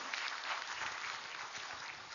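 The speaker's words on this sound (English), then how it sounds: "A big round of applause again for Dr. Pratima Murthy, please." An audience claps together at an academic oration, a steady broadband patter of many hands that stays fairly even for about two seconds with no voices over it.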